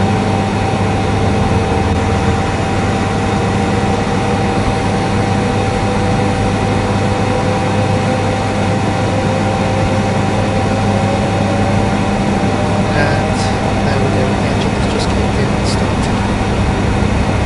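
A jet airliner engine spools up during start in a flight simulator, a steady loud drone with a rising whine line, ending in a few brief clicks.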